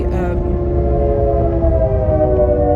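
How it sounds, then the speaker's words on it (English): A fast train passes close by: a loud, steady rumble with sustained horn-like tones running through the whole stretch. "man, that train's going fast"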